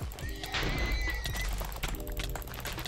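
A horse in a Minecraft Hypixel UHC game gives a brief whinnying cry as it dies, mixed with game clatter and mechanical clicks, loud and close over a dense background.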